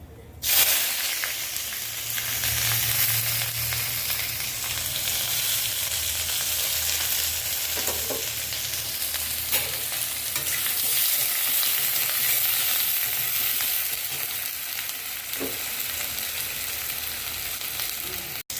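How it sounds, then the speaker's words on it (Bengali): Onion, black cumin and dried chilli fry in hot oil with a loud, dense, steady crackling sizzle held close, with a few faint clinks of a stirring utensil. "তেলের মধ্যে কালো জিরে দেবো আর শুকনো লঙ্কাটা দিয়ে দেবো, দিয়ে এবার পেঁয়াজটা দেবো।"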